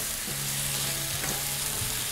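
Crispy fried catfish is stir-fried in red curry paste in a hot pan, giving a steady soft sizzle and frying hiss with faint stirring scrapes, moderately quiet and with no voices.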